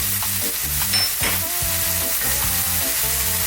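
Prawn noodles with soy and fish sauce sizzle and fry in a pan over high heat, a close, continuous crackle with no talking.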